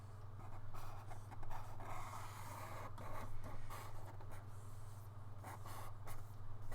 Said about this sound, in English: I'm still drawing the hair. Hair's kind of hard to draw.